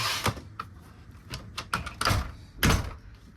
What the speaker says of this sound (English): So when you pop it open, it hooks like that.